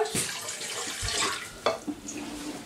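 Water pours from a tap into a bowl for pelmeni noodle dough in a home kitchen, a short splashing run with a few clinks and rustles, fairly close and unaccompanied by talk.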